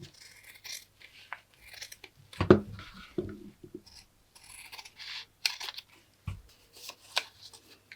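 Scissors carefully cutting red cotton quilting fabric for a miniature advent calendar craft, with soft intermittent snips, rustling cloth and a couple of thumps, quiet and close.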